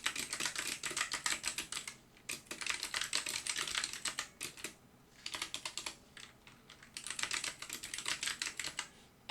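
Rapid keystrokes rattle on a computer keyboard in four dense bursts separated by short pauses, close and crisp in a quiet room with no talking.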